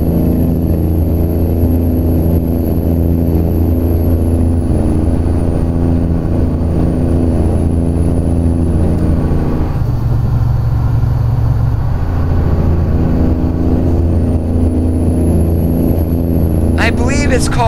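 Kenworth W900 truck engine in American Truck Simulator, a loud steady low droning rumble that shifts pitch midway and stays constant throughout, with no voices.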